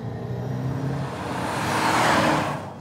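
Aston Martin with a 3.2 litre V8 engine driving along, a steady, fairly loud engine drone that swells toward the end before easing off, with no talking.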